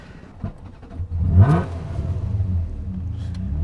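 A Ferrari 348 engine revs up sharply to a loud peak, then settles into a steady, throaty rumble close by.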